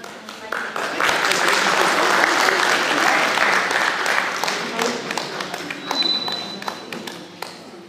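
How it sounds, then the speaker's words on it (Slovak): An audience applauds at a community celebration, with dense clapping that swells after a second and holds steady, then thins toward the end into scattered claps and taps. "Takže veľký potlesk pre tú našu námestku"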